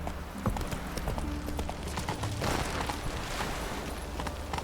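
Horse hooves clip-clopping at a gallop in The Witcher 3, a steady rapid rhythm of thuds with a brief whinny, set against a constant game ambience.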